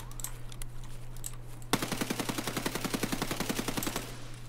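Fully automatic rifle fire in Escape from Tarkov, first a few faint distant pops, then one sustained close burst of rapid evenly spaced shots lasting about two seconds before cutting off.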